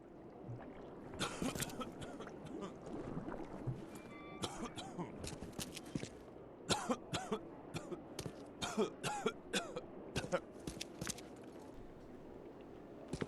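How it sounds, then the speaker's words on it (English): A character in The Sinking City video game coughs and clears his throat in a string of sharp, rasping bursts, close and fairly loud, over a low watery ambience with faint talk. "He needs to get his cough looked at, because he's gonna die if that keeps getting any worse"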